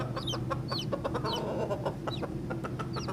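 Several hens cluck and squawk in short repeated calls over a steady low hum in a commercial soundtrack, close and clear, with no talking.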